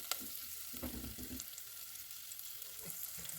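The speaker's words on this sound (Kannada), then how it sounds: "ಫ್ರೈ ಆಗ್ತಾ ಇದೆ ನೀಟಾಗಿ" Soft, steady frying in a pan for a mackerel fish curry, with a few stirring scrapes early on. The sound is quiet and close, and nobody speaks.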